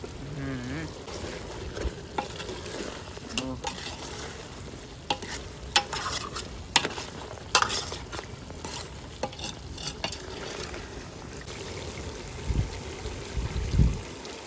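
Broiler chicken curry frying in a pan while being stirred, with steady sizzling and repeated scraping strokes of a spoon across the pan throughout, plus a few louder knocks near the end.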